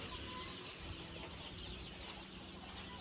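A dense, steady chorus of young chicks cheeps on a poultry farm, hundreds of birds in a week-old batch of 500 calling over one another without pause.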